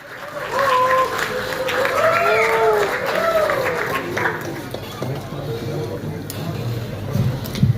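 Crowd applause welcomes actress Abhirami at a movie trailer launch event, a sustained burst of clapping with chatter and voices mixed in, easing off toward the end.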